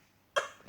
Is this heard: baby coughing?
yes